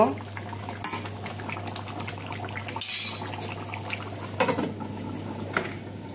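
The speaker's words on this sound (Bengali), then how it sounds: "এখন আমি ভাতটা হটপটে ঢেলে নিব" Cooked rice is tipped from a pot into a hotpot, with a close, loud scrape and clatter of a utensil against metal, followed by softer knocks and handling sounds.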